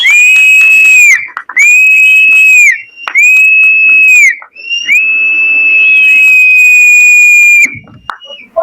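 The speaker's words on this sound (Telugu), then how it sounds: "ఇదే విజిల్ అందరూ అలా వేస్తే ఇంకా చాలా చక్కగా ఉంటుంది" Loud, piercing whistles blast in several long sustained bursts, one after another with short gaps between them, at a music song launch event.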